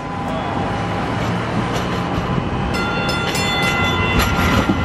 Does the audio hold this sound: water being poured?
no